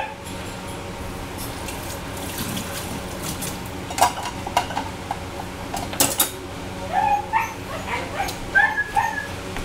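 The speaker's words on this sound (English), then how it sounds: "I think he's letting in the dogs." Dogs being let into a kitchen bark, yip and whimper in short bursts over steady background noise and clattering dishes, growing busier toward the end.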